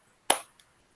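Claps for a person in an online class session: one sharp, close hand clap is followed a moment later by a much fainter second one, with silence around them.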